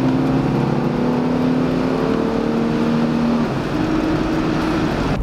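A Chevrolet Blazer with an American V6 engine and a five-speed automatic gearbox drones loudly and up close as the throttle is pressed, its steady engine note rising slightly in pitch and then settling, with no voices.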